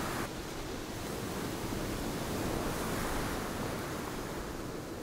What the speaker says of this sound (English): I guess honestly going the route of the river would be best. Like, it's like a, just such a loud roar.